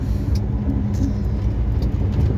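A truck rolls through a town toward the border, its engine rumble low and steady throughout the short stretch, close and fairly loud, with no talk.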